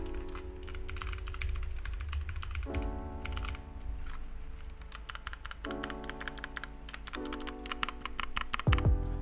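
Rapid, steady typing on a cheap £3 Temu keyboard fitted with a tape mod, dense clattering keystrokes running throughout at close range with a few slightly louder clacks near the end; no talking.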